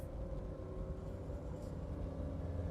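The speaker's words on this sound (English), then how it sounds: "do a full acceleration just to show you that everything functions as it should" A 1990 Jeep Cherokee XJ Pioneer two-door, one owner with 65K miles, under full acceleration gives a steady, loud low engine rumble that runs without a break, close to the listener.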